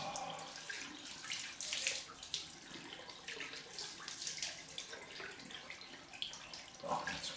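Water runs from a tap in a steady, close splashing stream, with faint irregular spatters, and no voices.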